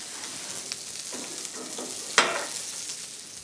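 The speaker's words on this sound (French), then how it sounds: "Notre Saint-Pierre, voilà, tranquillement grille." A John Dory fish grills in a pan with a faint, low-level sizzle, marked by one sharp clink partway through.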